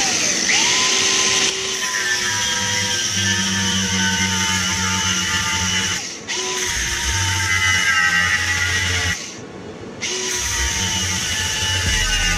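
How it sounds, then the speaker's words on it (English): A battery-powered angle grinder cuts through a worn wheel hub clamped in a vise, a loud, steady high-pitched whine heard up close that drops out briefly twice before resuming, with no talking. "I do have a battery grinder that I'm just gonna cut right through the middle"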